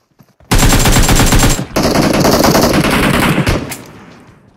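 Loud, continuous automatic gunfire from an MK 40-type rifle in a PUBG Mobile squad match: a dense burst of rapid shots, a brief pause, then another long sustained burst close up that trails off.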